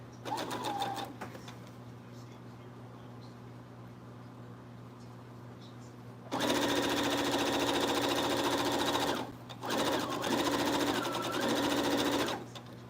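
A sewing machine pieces squares for a child's quilt top, running in two loud, steady whirring bursts separated by a brief pause, with faint room tone and quiet handling before the stitching starts.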